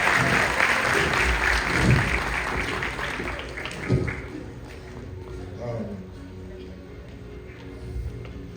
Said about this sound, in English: Please give a applause for thank you.